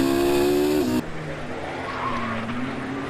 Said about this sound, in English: Sideways moment for Jacques Diver in 21 as he comes out of the Goddard's chicane